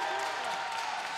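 Players and a crowd cheer in a college volleyball match as a substitute, number 12, steps onto the court, a steady close roar of voices and applause across the whole moment.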